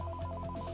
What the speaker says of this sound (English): A ringing phone could lead the assailant to students.